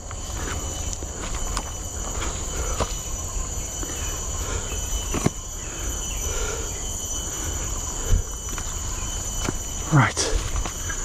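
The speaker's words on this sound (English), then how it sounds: "I can hear the train" A train rolling along rails near a hiking trail in Dover Forest, Singapore, a steady distant rumble with faint wheel squeals and clacks, insects humming in the background and a brief rising squeal near the end.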